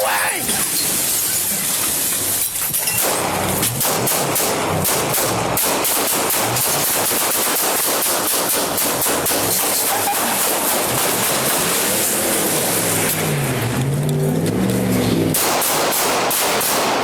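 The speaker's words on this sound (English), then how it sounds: "Shots fired! Shots fired!" Sustained rapid gunfire and bursts of shots in a military shooting game, loud and dense throughout, with voices shouting commands over the din.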